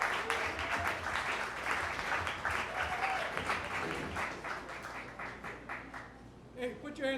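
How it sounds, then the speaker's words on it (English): Sustained audience applause at a stand-up comedy show in the Milk Parlor, a dense steady clapping that fills the room for several seconds before thinning out near the end, with voices mixed in. "Give him a big round of applause, okay?"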